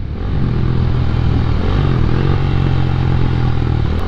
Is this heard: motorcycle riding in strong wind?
yes